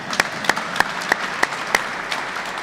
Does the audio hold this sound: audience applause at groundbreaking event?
yes